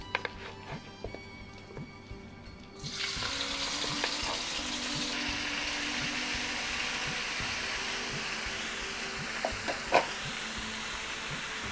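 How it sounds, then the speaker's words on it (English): Mixed vegetables dropped into a hot pan for veg biryani, a loud broad sizzle bursting in after a quiet start and then holding steady, with occasional stirring clinks and scrapes, no talking. "Now I'm going to add all vegetables."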